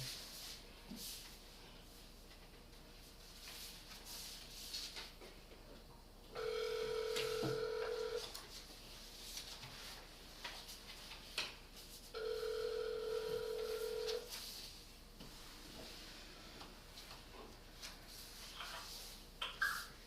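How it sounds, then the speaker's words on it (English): Call placed over a phone line during a county commission meeting: two long, steady ringback tones about six seconds apart, each lasting roughly two seconds, heard clearly over a quiet room murmur. "so we're gonna get him on the phone here if I can"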